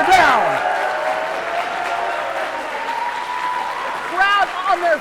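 A wrestling crowd at a main event in Chicago applauds and cheers steadily, a dense wash of clapping under loud commentary, with whistles rising near the end.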